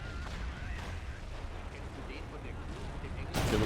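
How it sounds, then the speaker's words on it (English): Artillery guns fire steadily in the WWII strategy game Men of War: Assault Squad, set at the 1945 Battle of Seelow Heights, making a dense rumbling barrage under a speaking voice, with a louder blast at the end. "Artillery guns are firing as quickly as they can."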